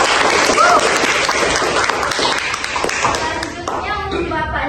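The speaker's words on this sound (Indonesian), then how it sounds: "Boleh kasih tepuk tangan dulu?" Audience applause during a podcast-style discussion on Gen Z and democracy: a loud burst of clapping that slowly thins and fades over a few seconds, with some voices mixed in toward the end.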